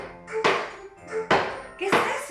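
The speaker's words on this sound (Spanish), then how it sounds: "Es el sonido de la silla." Chair in a living room knocks and scrapes three times in quick succession, each a sharp wooden thunk with a short rough drag, close and fairly loud with no talk.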